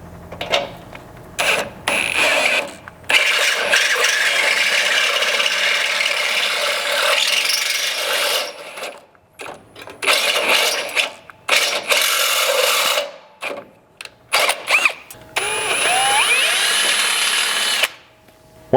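A step drill bit bores into a Toyota Sequoia's metal frame in repeated bursts, grinding and whirring loudly, with short pauses between each run.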